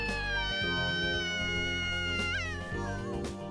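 A cat meows in the Kanon visual novel game: a single clear, drawn-out mew with a rising and falling pitch, close and alone over a steady musical backdrop.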